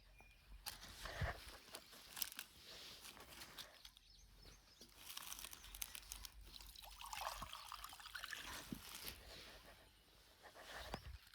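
Steady trickling water runs throughout, a continuous wet dribble with occasional splashy bursts and faint outdoor background noise, no talking.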